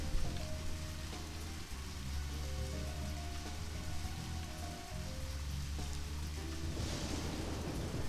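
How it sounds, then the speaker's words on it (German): Rain and rolling thunder from the video game Deadly Premonition, heard while driving along a country road, with a dense, steady rain wash and low rumbling under layered tonal game sounds. "Gerade wenn es regnet und gewittert."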